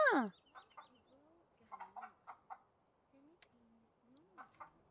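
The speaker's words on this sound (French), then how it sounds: "Oh, il y a un coq" Clucking rooster from The Sims Medieval, a loud opening cry followed by a string of short, rising clucks and chirps at moderate distance, with light game ambience and a voice speaking in places.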